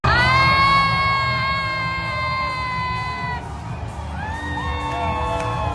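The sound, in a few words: fans cheering a Brazil goal in a Florida bar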